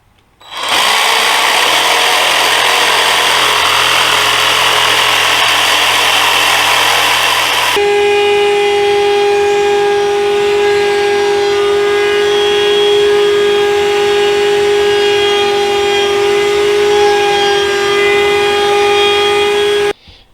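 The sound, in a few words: planing damaged wood pieces of magazine rack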